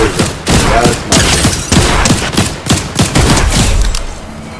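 Rapid bursts of automatic gunfire from a Fortnite or Apex Legends match after switching off the SMG, loud repeated volleys of shots with short gaps between bursts, no talk over them.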